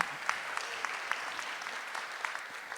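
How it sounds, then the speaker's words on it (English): Audience applause at a school recognition awards ceremony in a hall, a steady patter of clapping from a moderately sized crowd, fairly even with small sharp peaks and no voices over it. "now you'll have to clap again"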